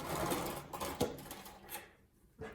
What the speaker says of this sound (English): you're gonna sew a 1/4 inch seam allowance on both sides. So I'm gonna do that really quick right now.